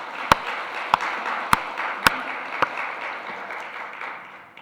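Congregation applause in a church service: a crowd claps together in steady unison, with sharp, evenly spaced accented claps standing out over the general patter before it fades away.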